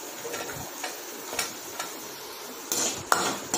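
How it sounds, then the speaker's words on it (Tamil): Grated coconut sautéed in a pan for coconut chutney, giving quiet scraping and a few light metallic clinks of a spoon against the pan, with a soft background hiss. "தேங்காயும் அதே மாதிரி நல்லா வதங்கி வர்ற வரைக்கும் நம்ம வதக்கிக்கணும்."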